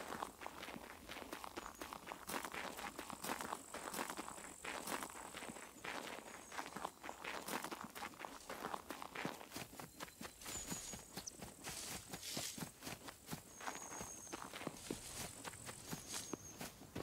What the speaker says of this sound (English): it was just a big mech stomping around